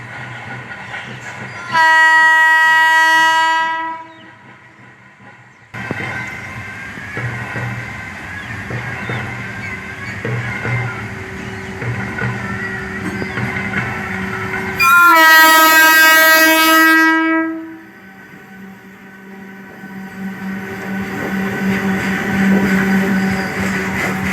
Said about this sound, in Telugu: సో వస్తుంది గూడ్స్.